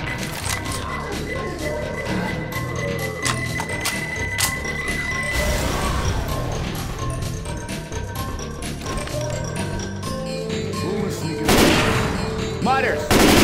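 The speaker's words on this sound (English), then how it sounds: "Grenade!" Left 4 Dead 2 gameplay with rapid, dense gunfire bursts throughout, loud and close, ending in a heavier blast near the end, with a voice briefly heard during the action.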